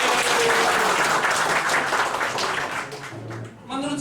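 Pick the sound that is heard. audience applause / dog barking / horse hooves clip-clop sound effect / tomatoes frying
audience applause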